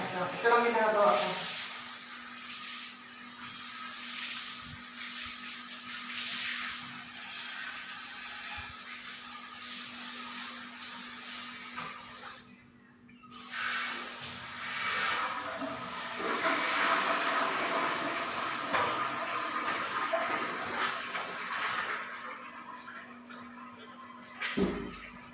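Water sprays steadily from a shower hose during household cleaning, a continuous hissing rush that briefly stops and then resumes, with faint talk in the background.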